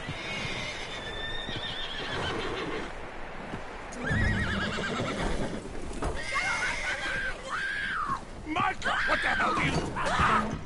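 A horse whinnies several times over hoofbeats in Red Dead Redemption 2, with people talking and game sounds mixed in throughout.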